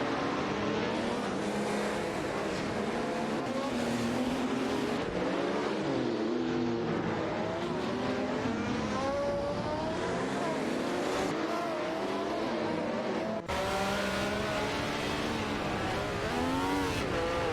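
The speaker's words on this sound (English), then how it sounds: "Let's enjoy watching these AI race cars tear up the track together." AI-driven race cars in a racing video game scream around a track, their engines revving up and down continuously and loudly, with overlapping gear shifts and passes.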